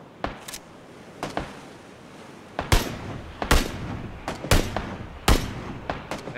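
Gunfire in the video game PlayerUnknown's Battlegrounds: sharp single shots and short bursts crack out at irregular intervals, some distant and some close and loud, over a steady background hiss.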